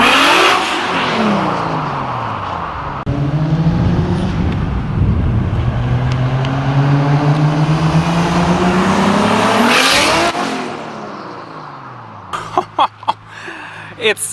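Big-turbo MK4 Toyota Supra making 800hp, revving and pulling hard on a street: loud engine sweeping up and down through the gears for about ten seconds before cutting off, followed by a few sharp pops.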